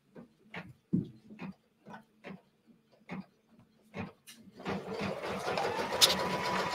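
Embroidery machine stitching a tack-down line through quilt fabric in a hoop, starting as a row of separate, evenly spaced needle thumps and then settling into a steady whirring run, close and moderately loud with nobody talking.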